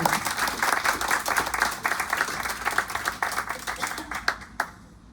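A poetry audience claps for the poet, lively applause with distinct individual claps that gradually tapers off toward the end.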